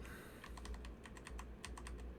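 Rapid clicking while opening a game replay, a quick run of a dozen or so light, close taps in uneven clusters, resembling keyboard typing, with no talking.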